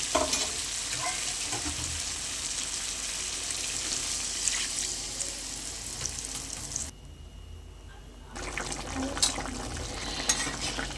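Potatoes and tomatoes fried in oil for a bata fish curry sizzle loudly and steadily, then drop quieter for a moment as water is poured in before the bubbling hiss picks up again with some stirring clatter.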